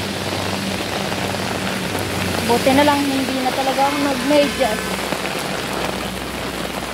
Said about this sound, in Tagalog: Ayan, bumuhos na po ang ulan.